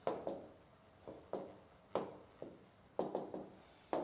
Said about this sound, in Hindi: तो यहां लिख देता हूं गुडाकेश